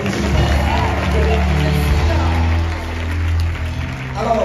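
A church congregation applauds and cheers for Jesus in a loud, steady wash of clapping and crowd noise, with voices mixed in.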